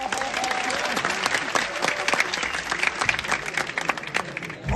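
Students at a college gathering in India break into loud, dense applause, a steady wash of many hands clapping from a large crowd that carries on throughout, with faint speech underneath.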